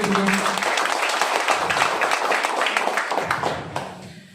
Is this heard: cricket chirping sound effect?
no